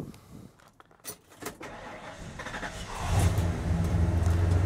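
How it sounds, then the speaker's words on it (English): A car engine is cranked and catches around midway, settling into a loud, steady idle after some faint rustling and clicks. "I guess I'll fire it up while we're here."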